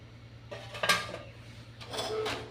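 Pots and utensils clink and clatter as arbi (taro root) sabzi is mixed and the pot covered while cooking; two short bursts of metallic scraping and knocking, close and fairly quiet, with no talk.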